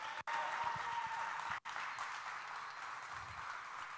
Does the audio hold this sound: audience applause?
yes